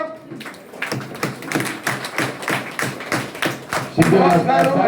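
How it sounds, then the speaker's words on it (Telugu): Audience at a Vochar Dhamaka festival event clapping in uneven rhythmic bursts, close and fairly loud, swelling into fuller applause at the end. "ప్రతి ఒక్కరం కూడా ఎంకరేజ్ చేయాలి. ఒక్కసారి క్లాప్స్ తో"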